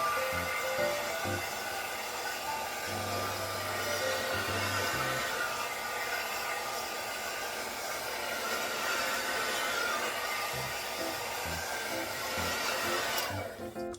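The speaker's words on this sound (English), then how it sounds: "I'm gonna take my trusty blow dryer on high heat and high air" A blow dryer on high heat and high air roars continuously at close range while drying hair, a loud airy whoosh with slight shifts as it moves, then cuts off at the end.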